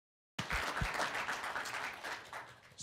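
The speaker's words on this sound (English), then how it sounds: "And that's just another round of applause for a medical student doing a great job." Sudden burst of applause from an audience at a medical research day honoring a medical student, steady dense clapping that eases off slightly over a few seconds.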